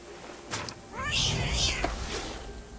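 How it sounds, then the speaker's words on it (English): A cat in the video game What Remains of Edith Finch gives a single drawn-out meow, clear and fairly close, with a few faint clicks and game ambience around it. "I was a cat."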